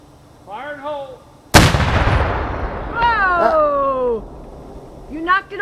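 A single loud blast from a live-fired Civil War Whitworth cannon booms out, its rumble decaying over a couple of seconds, with voices talking and calling out before and after.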